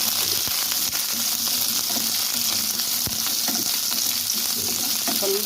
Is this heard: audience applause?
no